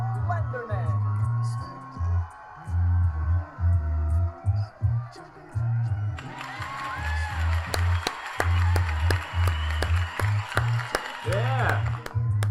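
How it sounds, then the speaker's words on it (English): Studio audience at a live talk show taping applauds and claps steadily, with cheering in the mix, as hosts talk over it before the clapping cuts off at once. "It's funny how everybody stops clapping at the same time."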